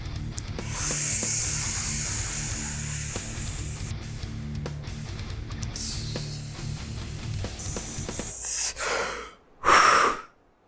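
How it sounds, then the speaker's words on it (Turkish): During a breathing exercise, one long, slow exhale runs as a steady, close, breathy hiss for about eight seconds. It then gives way to a couple of short, sharp breaths. "Nefesinizi fullleyin ve olabildiğince uzun sürede vermeye çalışın."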